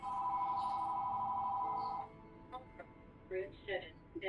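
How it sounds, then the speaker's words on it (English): A house phone rings with a warbling electronic tone for about two seconds and then stops, after which a person starts talking at low level. "Call on my house phone, that never happens."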